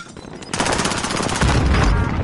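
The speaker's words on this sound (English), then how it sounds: "that was a shot" Rapid gunfire in the video game Call of Duty: Warzone, a dense burst of loud shots that kicks in abruptly and rattles on continuously, swelling heavier toward the end.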